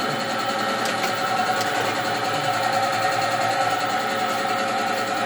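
Steady mechanical whirring and rattling of a running 1/2 HP air compressor powered by a 3 kW 24 V inverter, continuous and fairly loud throughout.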